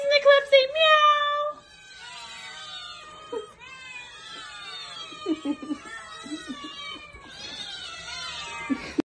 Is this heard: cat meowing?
yes